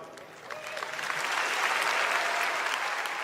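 Applause in the House chamber swells from scattered clapping into a sustained, dense round from a large crowd, steady and fairly distant-sounding, with faint voices underneath.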